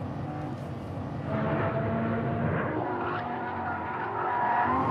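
A Lamborghini LP570-4 brakes hard on a race track, its tires squealing in a long, loud screech over the steady roar of the engine.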